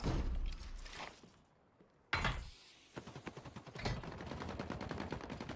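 Gunfire in The Cycle Frontier, a sniper rifle firing in a video game: a sharp loud report, a lull, then another blast followed by a stretch of rapid rattling shots and rumbling game noise.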